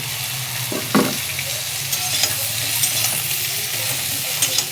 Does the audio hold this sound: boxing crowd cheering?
no